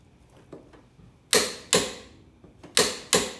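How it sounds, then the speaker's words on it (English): Torque wrench with a 36mm socket tightening a Mitsubishi Pajero Gen 4 rear hub nut to 220 Nm: a few soft clicks, then four sharp, loud ratchet clicks in quick pairs, close up. "Now with a 36mm socket and a torque wrench on 220 Newton meters, I'm just going to tighten up that rear hub nut."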